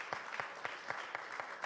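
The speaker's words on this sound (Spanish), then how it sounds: "Vamos a darles a ellos un aplauso a la manera de la Embajada del Reino como bienvenida" Church congregation clapping in rhythmic unison as a welcome during a service, about seven evenly spaced claps, steady and moderately loud, no voices over them.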